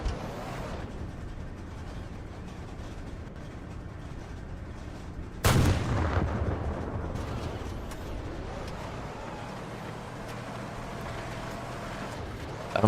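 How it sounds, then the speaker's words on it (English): Machine gun and tank cannon fire in a multicrew tank combat video game, a steady rumbling engine bed broken by one sudden loud blast around the middle that slowly fades back into the rumble. "Why did you just shoot the machine gun?"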